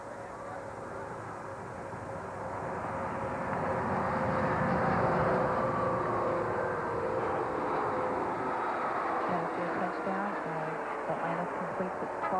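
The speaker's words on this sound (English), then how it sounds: "it's still impressive to watch the giant orbiter come in" Space Shuttle orbiter on its landing rollout after main gear touchdown at the end of the STS-46 flight, giving a steady broad roar that swells midway and stays loud, with a low rumble underneath.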